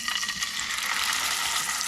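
A salted steak shallow fries in a pan coated with oil, giving a close, loud and continuous sizzle with fine crackling all the way through.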